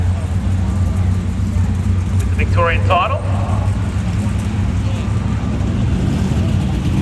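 410 sprint cars are pushed off for the B main at the Victorian sprint car title: a low, steady engine drone rolls on beneath a commentator talking, with crowd and track noise around it.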